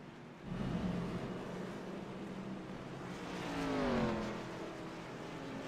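Race cars in a LEC NextGen Series 200 at Richmond in 2022 roll off pit road, a steady distant engine roar with one car's pitch rising as it accelerates.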